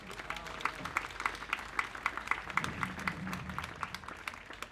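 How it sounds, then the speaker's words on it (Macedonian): A concert audience claps for a female chamber choir, a light scattering of individual claps at a moderate distance, fairly faint and fading toward the end. "да ги поздравиме со аплауз"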